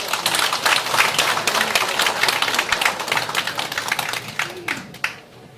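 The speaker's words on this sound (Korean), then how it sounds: "이웃 어르신께 다시 한번 큰 박수" An audience claps for elderly neighbours who performed at a neighbourhood New Year greeting event, dense, steady applause filling the room for about five seconds before tapering off abruptly at the end.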